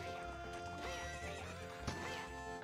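A horse in the video game Ocarina of Time gives a loud whinny while its hooves clip-clop steadily beneath, with game music and effects filling the background.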